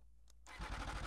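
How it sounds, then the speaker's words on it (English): An MV Agusta Brutale Dragster 800 RC motorcycle engine cranks and catches, settling into a loud, close, throbbing idle that fills the second half after a quiet start. "A truly delicious exhaust note out of this motorcycle."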